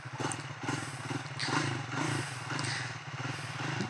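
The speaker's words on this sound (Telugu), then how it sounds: "ఇప్పుడు ఒకసారి ఎగ్జాస్ట్ నోట్ వినండి" The Triumph Thruxton 400 motorcycle sits at idle, its exhaust giving a steady, close, low burbling pulse with a slight mechanical clatter and no talk over it.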